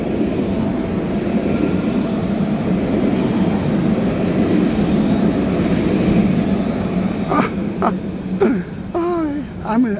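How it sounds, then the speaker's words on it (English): A light rail train rumbles past at close range in Jerusalem with a steady low roar, and voices start talking over it near the end. "Are you ready for the light rail?"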